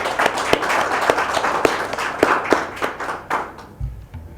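An audience claps for Dr. Sarr at a Haitian political gathering, with sharp, loud individual claps standing out from a steady round of applause that thins and fades toward the end.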